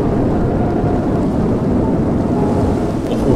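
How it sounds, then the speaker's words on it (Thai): A loud, roaring storm with rumbling thunder and heavy rain fills a Minecraft game world, a steady dense wash of noise that stays close and unbroken throughout with no voices. "โอ้โหเสียงพายุดังมาก พายุเข้า"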